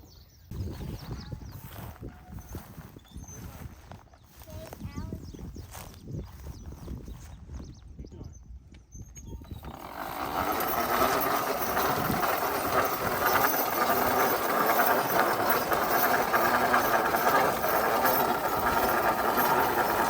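A team of mules pulls a pasture mowing machine; the steady clatter and whir of the cutting bar rises loudly after about ten seconds and runs on continuously, following a stretch of talk with hoof sounds.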